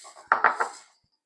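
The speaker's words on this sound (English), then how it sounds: "I've cut it into smaller pieces to help make it easier to cut it into the flour." Butter pieces are worked into flour in a bowl for strawberry-raisin scones, producing a few short scraping and tapping knocks of a utensil against the bowl, close and fairly quiet, then fading to silence.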